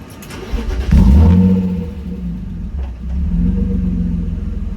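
A BMW E36 drift car setting off around the block, its engine surging to a loud close rumble, dipping briefly, then settling into a steady low drone as it drives, with no voices.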